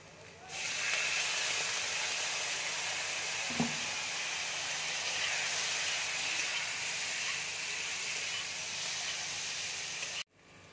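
A splash of water hits a hot pan of jeera aloo, setting off a loud, steady hiss and sizzle that holds for about ten seconds before cutting off abruptly.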